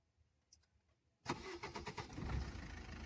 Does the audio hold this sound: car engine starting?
yes